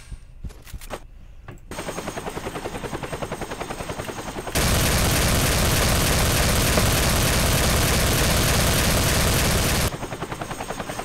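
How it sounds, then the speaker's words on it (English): A helicopter in a multiplayer shooter video game sounds as a steady loud rotor roar with rapid gunfire mixed in, the roar swelling even louder through the middle of the clip. "Do they got the helicopter?"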